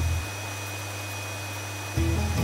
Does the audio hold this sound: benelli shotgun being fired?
no